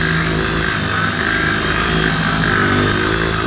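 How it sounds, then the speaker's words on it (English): A power buffer works clear coat on car paint to remove orange peel, a loud, continuous whirring motor drone with steady pitch heard alone and close. "we're gonna get on buffing this"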